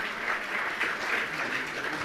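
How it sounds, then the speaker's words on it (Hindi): An audience claps steadily at a religious discourse gathering, a dense, even wash of applause throughout with no breaks. "जोरदार तालियां"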